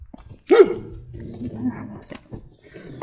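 An old dog behind a fence lets out one loud, close bark followed by low growling and whimpery grumbles that fade into quieter murmurs.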